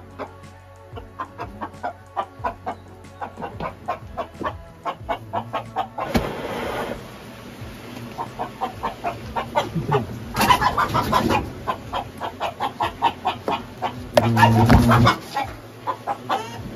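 A frightened hen clucks repeatedly in quick, nervous bursts during an Asian hornet attack, with louder agitated squawks rising mid-way, fairly close and without speech.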